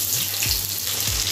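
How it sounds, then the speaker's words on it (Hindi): Onions hit hot oil already seasoned with cinnamon, cardamom and cumin for a dhaba-style egg masala curry, giving a brief, steady, close sizzle with a couple of low soft thuds underneath. "प्याज को हल्का हम फ्राई कर लेंगे।"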